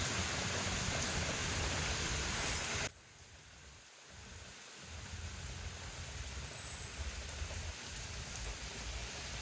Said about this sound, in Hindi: दोस्तों बारिश शुरू हो गई है